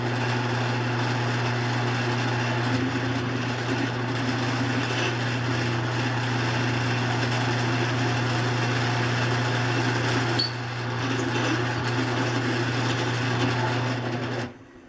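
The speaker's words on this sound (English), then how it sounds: "first hole drilled" A drill bores a hole through a clamped workpiece, its motor giving a steady, loud humming whine that runs unbroken for about fourteen seconds before cutting off abruptly.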